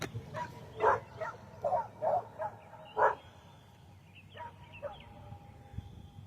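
A dog barks in a short run of sharp woofs, then gives softer yips and whimpers, fairly close with a low background hum.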